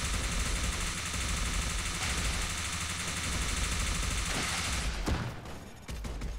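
Rapid, unbroken sci-fi gunfire from a video game weapon that never pauses to reload, a dense loud stream of shots that runs for several seconds before cutting off into scattered bursts.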